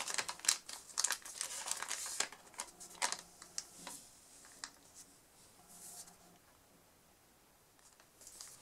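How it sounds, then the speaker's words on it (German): Origami paper folded and creased by hand, heard as a run of close crinkles, rustles and sharp crackles that thin out into quieter handling toward the end. "Jetzt nehmen wir dieses überschüssige Papier und falten das wieder nach hinten weg."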